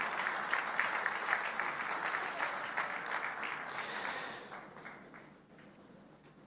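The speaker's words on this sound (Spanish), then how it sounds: "Fuerte ese aplauso de alabanza al Señor." A church congregation claps in dense, steady applause of praise that fades away over the last couple of seconds.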